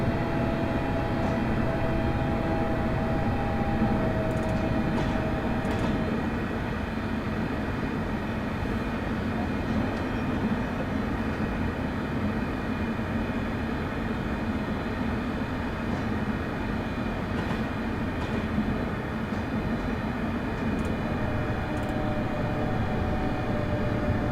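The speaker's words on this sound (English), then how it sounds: "You're putting the ScotRail Express literally to the test there, Sophie." A ScotRail Express train in Train Simulator Classic, on a Glasgow to Dunblane and Alloa route, rolls along under braking with a steady, continuous engine drone and rail rumble, faint tonal whines and occasional soft clunks, even and unbroken throughout.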